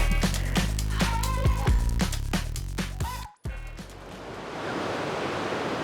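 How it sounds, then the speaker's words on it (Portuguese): Ocean surf breaks at Rocky Point as a steady, broad wash of noise, following an abrupt cut from loud music. "Vai, estão umas ondas."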